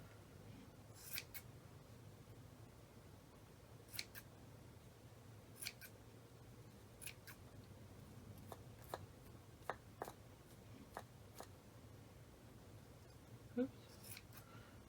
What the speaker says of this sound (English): Okay, so I'm gonna trim it a little bit.